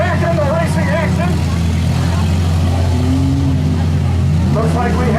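Minivans, trucks and SUVs in a demolition derby at the 2018 Mercer Grange Fair, engines droning and revving loudly throughout while an announcer talks over them.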